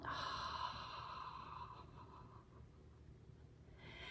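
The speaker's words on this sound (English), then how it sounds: "And open the mouth, let the breath come out." A single soft, breathy exhale through an open mouth during a relaxation exercise, a faint airy rush that fades away over a few seconds, with no talking.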